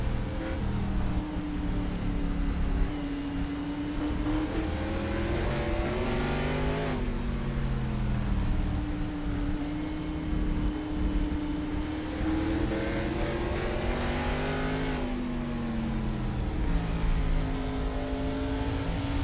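Race cars lapping the South Boston track at an all-star racing event, engines roaring steadily and loudly for the whole stretch, pitch climbing and dropping as they accelerate and lift, with no voices.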